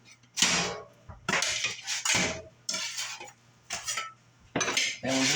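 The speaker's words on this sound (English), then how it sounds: "we're just going to cut them like a pie" Knife slicing browned, toasty chicken quesadillas on a cutting surface, heard as several crisp, close cutting strokes with short pauses between them and a steady low hum underneath.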